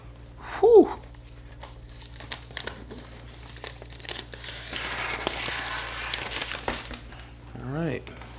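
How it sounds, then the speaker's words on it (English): Stickers being peeled off a new 2017 15-inch MacBook Pro during unboxing, heard as close crinkling and papery peeling that builds toward the end, with a brief vocal exhale before and after. "let's take the stickers off."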